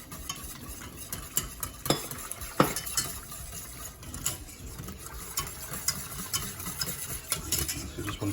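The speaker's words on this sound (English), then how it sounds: "Whisking all the time." Whisking milk into a lasagne sauce in a pan, a soft continuous stirring with light metallic clicks and scrapes of the whisk, faint and close, with a gentle sizzle beneath.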